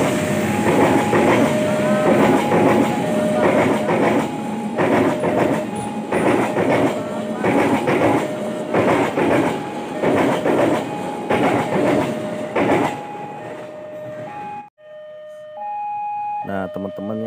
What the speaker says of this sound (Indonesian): ini akan ada kereta masuk ya